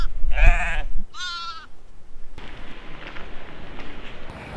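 Two loud, close sheep bleats on a Himalayan trekking trail in Himachal Pradesh, one right after the other, followed by a quieter stretch of rustling outdoor ambience.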